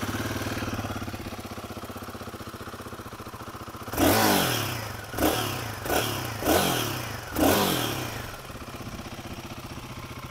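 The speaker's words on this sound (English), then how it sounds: "Since we're giving you a walk around the motorcycle, let's show you what it sounds like." A Royal Enfield Guerrilla 450 motorcycle engine idles in neutral with a steady thump, then revs sharply five times in quick succession before settling back to a low idle.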